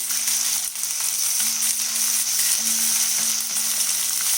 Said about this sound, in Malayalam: ഉള്ളി ഒന്ന് ബ്രൗൺ നിറമാകുന്നത് വരെ വാടട്ടെ